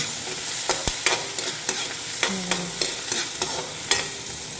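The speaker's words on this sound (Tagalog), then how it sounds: "Halo-halo lang, halo-halo." Mung bean stew being stirred in a pot, with a steady run of scraping strokes against the pot under a soft sizzle, close and fairly loud, no voices.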